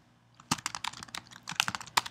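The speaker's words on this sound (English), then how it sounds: "just start typing your questions." Close, crisp clicking of keys on a computer keyboard, irregular bursts of rapid taps with short pauses, loud and alone without talking.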